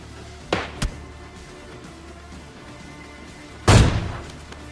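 Gunfire in PUBG Mobile Lite gameplay: two quick sharp shots close together, then after a pause one heavier booming blast with a short rumbling tail.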